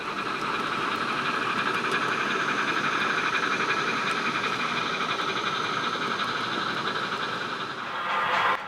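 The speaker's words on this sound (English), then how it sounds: "the westbound train switched to left-hand running on the original main line" A Union Pacific westbound freight train rolls past on the main line in a valley, a continuous loud rumble and steady metallic wheel hiss, with no voices.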